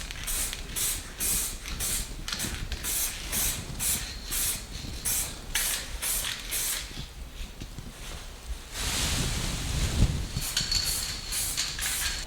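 Repeated short bursts of an aerosol spray can applying base coat to an Acura TL Type S front underbody lip, rhythmic hissing pulses up close, with a longer continuous spray near the end.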